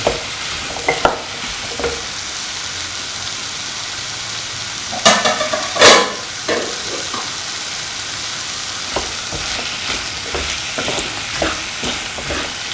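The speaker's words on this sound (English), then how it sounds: "Mix the potato and the yam pieces well with the rest of the mixture." Potato and yam pieces stirred in a frying pan, a steady sizzle broken by scraping spoon strokes and clatters against the pan, several louder knocks partway through, close and alone without voices.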